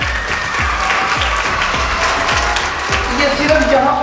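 An audience at a school welcome ceremony claps together, loud and continuous, while a regular low thumping pulse runs beneath the applause throughout.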